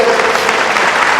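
A church congregation breaks into loud, sustained applause, a dense even wash of clapping with no voices over it.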